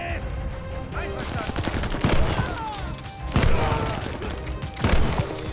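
Dense gunfire from the video game Call of Duty Vanguard, bursts of rapid shots and louder cracks in an uneven rhythm, close and punchy, with heavier thumps around the middle and end.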